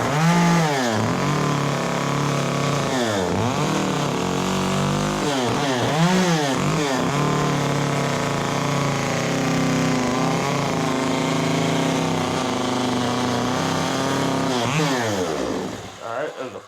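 Chainsaw cutting into a pumpkin during carving, its engine running loud and continuous throughout with repeated revving swells as the blade bites, then cutting off at the end.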